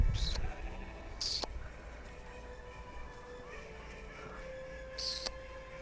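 Sheep bleat on a farm at an animal park: three short, fairly close bleats, spaced apart, over a quiet outdoor background.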